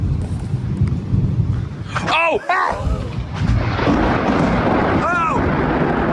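Massive lightning strike in a severe thunderstorm, heard from a bungalow patio facing the Magic Kingdom castle: a loud, deep rumbling crack of thunder with heavy low rumble throughout, while a person exclaims briefly and another voice cries out.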